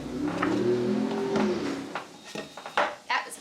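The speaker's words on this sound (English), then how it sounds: "That motorcycle was so loud" A loud motorcycle passes by in a residential neighborhood, its engine tone swelling and then fading over a couple of seconds, followed by scattered clatter and faint voices.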